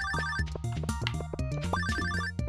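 A telephone rings in the farming video game Stardew Valley: a bright, repeating electronic ringtone with steady rhythmic pulses, loud and close, with no talking over it.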